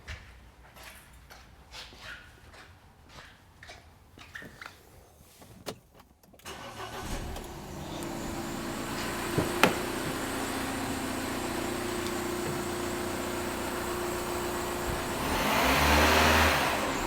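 A common rail diesel car engine cranks and catches after a few seconds of quiet, then settles into a steady, close, continuous running drone for the rest of the clip.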